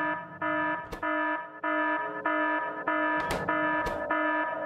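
An alarm sounds in the video game Factorio with the Space Exploration mod: a repeating electronic tone in several sustained bursts separated by short gaps, at moderate level, with occasional brief clicks.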